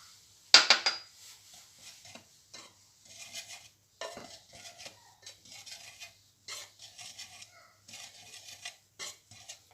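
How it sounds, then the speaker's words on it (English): A whisk clinks and scrapes around a bowl while mixing powdered baking ingredients for chin chin, in an irregular run of light metallic taps after one sharper knock, no voices. "I'm just using the whisk to make sure everything incorporates the powder ingredients"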